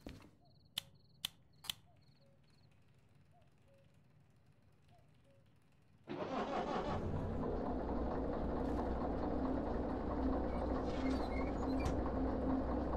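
A train locomotive in the Derail Valley game rumbles into motion at night, a few sharp clicks first, then a sudden loud, steady engine roar with rattling mechanical texture that holds to the end.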